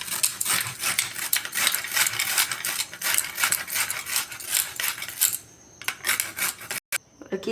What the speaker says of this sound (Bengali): এবার আমি গ্রেটারে গ্রেট করে নেব